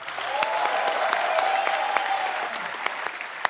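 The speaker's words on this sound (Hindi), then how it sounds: "जोरदार तालियां" Studio audience applause on an Indian comedy talk show, steady and dense clapping sustained throughout with a few sharper individual claps standing out near the end.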